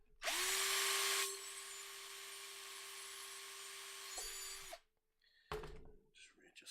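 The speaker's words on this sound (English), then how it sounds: "We will quickly drill that through again, making sure that we have it lined up correctly." A power drill whirs loudly and steadily for about four seconds, then stops, followed by a brief clatter and faint handling noises.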